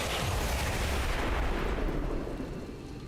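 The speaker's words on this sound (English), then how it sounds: "we're gonna give you our brand new launching of the Illyrium rocket" Illyrium rocket launch explosion in the video game XCOM 2, a loud, dense rumbling blast that roars steadily then gradually fades toward the end.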